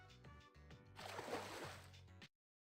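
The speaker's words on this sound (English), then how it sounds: "You heard splashing from the hot spring." Water splashes and sloshes in an outdoor hot spring in Persona 3 Portable, a brief close-up burst over soft game music before cutting to silence.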